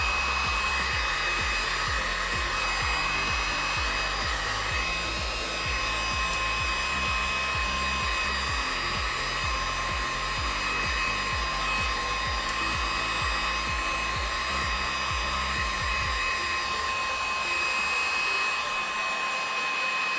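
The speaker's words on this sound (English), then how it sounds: "Super lightly heat gun." A heat gun blowing hot air over cosplay crafting material, a steady loud whirring hiss that continues for most of the stretch before cutting off near the end.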